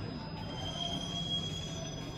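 Steady rumble of a JR East E721 series commuter train on the Sendai Airport Access Line, heard from inside the carriage, with a faint high wheel squeal running over a continuous low drone.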